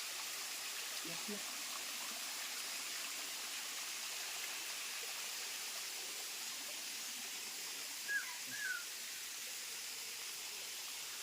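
A forest stream flows down from the valleys with a steady, broad rushing hiss at moderate distance, continuous throughout, with a couple of faint distant sounds and a brief voice near the middle.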